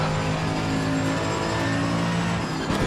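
A Mercedes-AMG EVO GT3 race car's engine in Assetto Corsa Competizione drones loud and steady at high revs throughout, with a continuous tonal whine and no talk.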